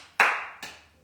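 A few people nearby clap during an outdoor pilates session at a residence, giving sparse, sharp hand claps at an uneven pace, close and clear.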